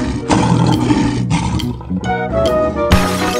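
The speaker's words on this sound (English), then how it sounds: "Lion." A lion roars loudly and close, a sustained deep rumbling roar with a layered, strained texture that carries through the whole few seconds alone.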